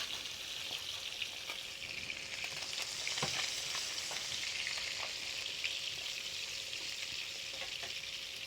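Pike-perch fillet fries skin-side down in fat in a pan, a steady dense sizzle with sharp intermittent crackles and spits, close and continuous without any voices.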